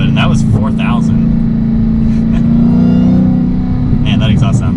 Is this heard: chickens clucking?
no